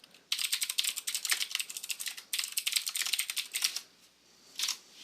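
Fast typing on a computer keyboard while coding HTML, heard as close, crisp clicking in quick flurries separated by short pauses.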